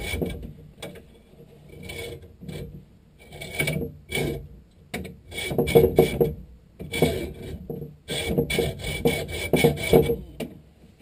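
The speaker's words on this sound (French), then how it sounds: "maintenant que j'ai pu scier très facilement" Hand saw cutting through soft copper water pipe, a rasping back-and-forth scrape in uneven strokes, close and fairly loud, with short pauses between bursts of sawing.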